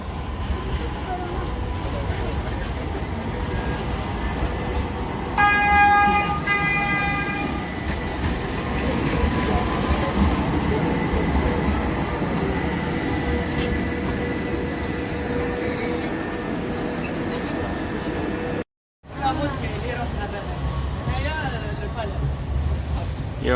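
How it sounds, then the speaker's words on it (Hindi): A tram pulls into Sultanahmet tram station in Istanbul, rumbling steadily and loudly with a brief horn-like tone partway through, under crowd noise and people talking nearby. "ये ट्राम ट्रेन आ गई है।"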